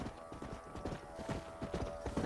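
Horse hooves clip-clop steadily and fairly close in the Red Dead Redemption video game, a continuous rhythmic trot with a faint whinny-like tone and no talking over it.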